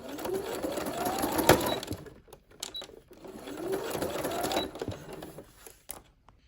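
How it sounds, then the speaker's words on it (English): A sewing machine runs a straight stitch attaching a grommet panel to a corset for a beaded prom gown, in two steady whirring bursts separated by short pauses and faint handling clicks, close and fairly quiet with no talk. "I'm literally just sewing the grommet panel on top of the corset with a straight stitch."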